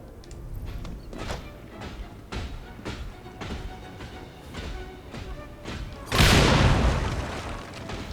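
Big explosion in the video game Assassin's Creed Syndicate, a loud broadband blast near the end that swells and decays, following a run of rhythmic thuds and game clatter.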